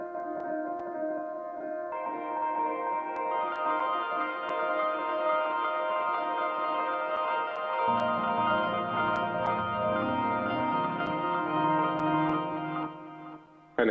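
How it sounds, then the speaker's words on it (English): Sustained piano chords washed in heavy reverb with trailing echoes, steady and full, with a lower bass-like layer entering partway through; no voices. "there's a piano playing"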